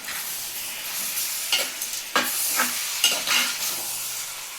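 Chicken meat stirred in a pan with salt and turmeric, with close scraping stirs repeating over a soft continuous sizzle and no talking.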